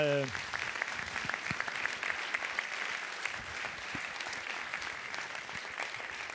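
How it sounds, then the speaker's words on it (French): An audience claps at the end of a conference, a quiet, even stream of applause that sounds distant and fills the room from start to finish, with a brief voice at the very start. "oui, on peut applaudir"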